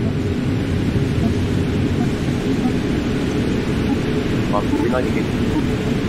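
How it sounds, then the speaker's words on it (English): A loud, steady roar of wind rushes against an aircraft in flight from Las Vegas to Los Angeles, a dense continuous noise with no breaks. "That is the sound of stuff against the plane and the wind"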